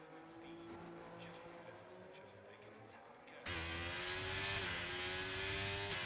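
Race cars in a racing video game, a continuous engine drone that jumps sharply louder partway through and holds a high steady whine.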